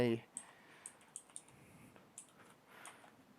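An IP address is typed on a computer keyboard, a sparse series of faint, light clicks spaced irregularly, quiet and close with no talking over them.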